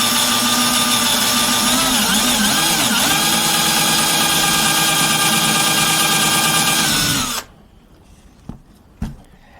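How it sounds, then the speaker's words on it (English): A wood router cuts a countersink into a blank router base plate with a loud, close, high-pitched whine. The pitch dips briefly under load, then the motor cuts off abruptly and is followed by a couple of small knocks. "Okay, so what you're going to do is you're just going to countersink. You're just going to go down."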